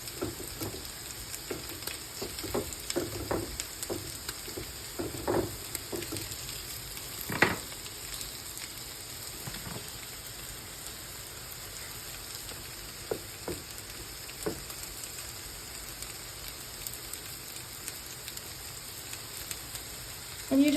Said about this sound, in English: we continue to cook our potato pancakes